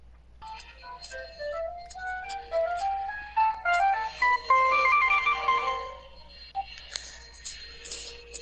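A melodic ringtone plays on a phone nearby, a bright run of electronic notes climbing and repeating over several seconds before cutting off.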